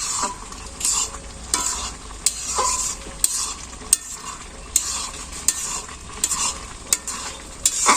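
Cauliflower sizzles steadily while frying in a pan in a village kitchen, with a utensil repeatedly scraping and tapping against the pan as it is stirred, close and loud, no talking.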